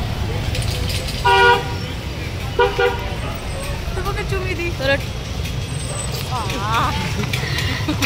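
Night traffic on New Market road, with several car horns honking in short bursts over a steady rumble of engines and street noise, and voices talking in the background.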